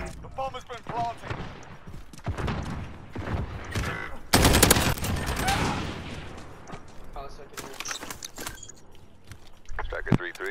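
Gunfire in Call of Duty: Modern Warfare multiplayer sounds as sharp bursts of rapid shots with a loud concentrated volley midway, interleaved with in-game radio chatter and player talk.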